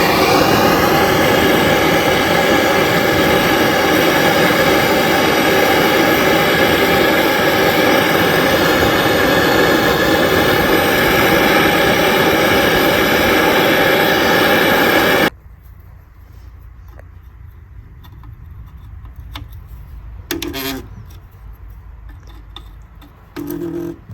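A gas torch roars steadily and loud while heating seized, rusted car parts on a rally car being built. It cuts off abruptly midway, leaving faint workshop clatter and brief bursts of noise.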